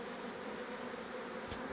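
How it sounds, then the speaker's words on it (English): A dense, steady buzz from many honeybees during the relocation of a large hive from a lounge room in Kyneton, a faint continuous drone with no voices. "Lots of bees on the windows."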